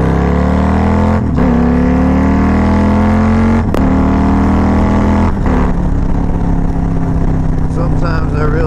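A loud engine exhaust drones steadily, its pitch rising and falling with throttle changes and a few sharp shifts, close to the microphone.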